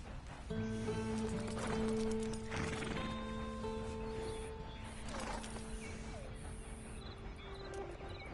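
Horse hooves in the video game Red Dead Online, heard as clip-clop steps under a layer of creaking tack, mechanical clicks and a faint neigh, fairly quiet, with no talk.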